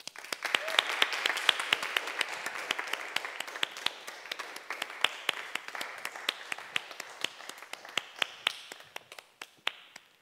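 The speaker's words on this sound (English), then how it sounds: "So please all join me in giving Dylan a very warm round of applause." An audience at a Cambridge Union talk breaks into a warm round of applause, many distinct claps rattling steadily for the whole stretch, dense at first and thinning slightly toward the end, with no voices over it.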